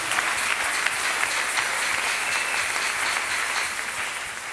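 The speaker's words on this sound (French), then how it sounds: "Applaudis parce que tu es l'enfant de Dieu." A church congregation breaks into steady, sustained applause during a Sunday service, a dense wash of clapping that stays loud and even throughout with no voices standing out.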